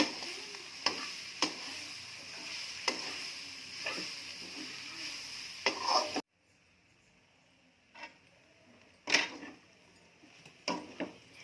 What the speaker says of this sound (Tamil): ப்ரெட்டும் இந்த மசாலாவும் ஒன்றா சேர மாதிரி நல்லா பிரட்டி விட்டுக்கோங்க